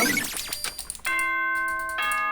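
A bright ding-dong chime from the Danganronpa video game rings out in clear tones with sustained ringing harmonics, following a brief burst of busier game sounds, loud and up close with no talk.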